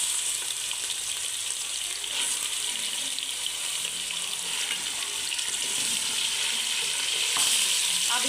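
Chicken sizzles in a pan with garlic ginger paste for shami kabab, a steady bright frying hiss with faint stirring scrapes throughout, close and unbroken.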